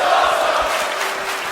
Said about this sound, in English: the crowd acknowledging the Dog of War